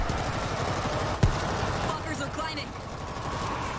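Rapid automatic gunfire rattles continuously while shooting zombies in the World War Z video game, with one sharper bang partway through. It plays at a moderate level and fades toward the end.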